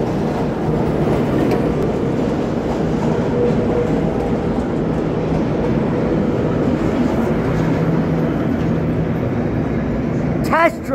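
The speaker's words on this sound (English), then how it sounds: "Test train" A loud, steady rumble of a subway test train rolling past close by at 59th Street station, wheels droning continuously, with a brief sharp squeal at the end.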